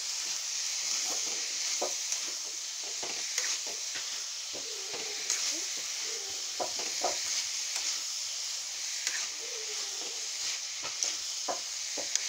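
Cucumber fries in oil with a steady soft sizzle and hiss, punctuated by scattered light clicks and stirring taps throughout.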